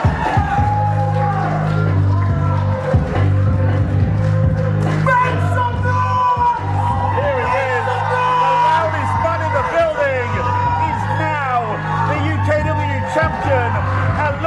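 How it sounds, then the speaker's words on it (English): Crowd at a UKW wrestling show cheering and shouting for the new heavyweight champion, a loud sustained roar with whoops and yells throughout, under a steady low music bed. "listen to the love of the UKW crowd"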